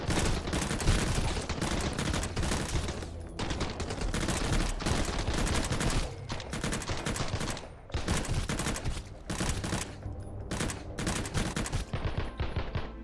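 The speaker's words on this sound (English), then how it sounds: "Try out our new gun right now." Rapid gunfire from a newly crafted gun in the survival game Sunkenland, loud dense bursts of shots fired in quick succession with short pauses between volleys, filling the whole stretch.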